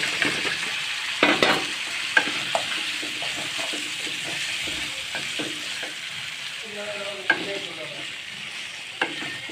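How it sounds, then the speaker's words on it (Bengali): Chopped vegetables hit hot oil in a pan after long-fried spices, giving a constant sizzle broken by sharp clatters and scrapes of a spoon stirring close by. "এখন আমি এই যে কেটে রাখা তরকারিগুলো আমি দিয়ে ফেলবো।"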